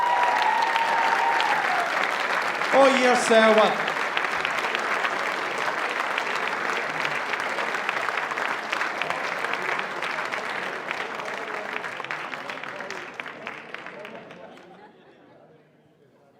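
A festival audience applauds competition winners at the Pan Celtic Festival, with a long, full round of clapping and crowd chatter, a few voices calling out early on, before the applause fades away near the end.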